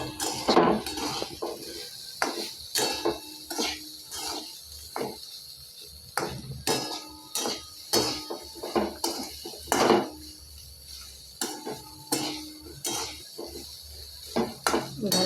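Drained boiled soybeans are stirred in a pan at home, a spatula clinking and scraping against metal in irregular sharp knocks and rattles over a low background, close up, with no one talking.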